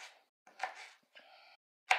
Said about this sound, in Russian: Огурец режем ножичком.